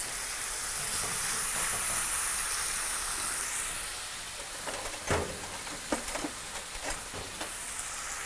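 Pork ribs sizzling in honey in a hot pan, a steady bright hiss that loudens, then settles into a softer crackle with occasional pops and light clinks of utensils.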